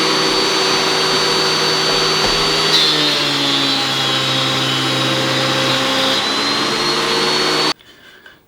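Woodworking machine running with a loud, steady roar as a piece of wood is fed through it, then cut off abruptly near the end.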